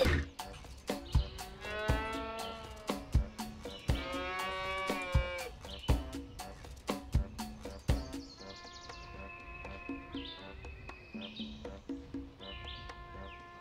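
Cartoonish cows mooing in the farm video game Cow Catcher, several long drawn-out moos repeating one after another over regular thumping beats and light chirps, loud and close with no talk.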